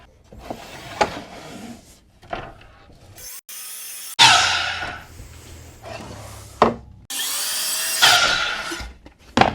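Wood being cut at a miter box in a home workshop: bursts of harsh sawing noise broken by pauses and handling clatter, close and loud, with no talk.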